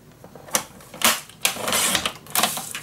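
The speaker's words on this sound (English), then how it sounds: "I'm gonna make a 1 inch score line right here" Scrapbook paper being scored with a 1 inch line for a Christmas mini album: several separate scraping strokes and clicks, close and moderately loud, spaced irregularly.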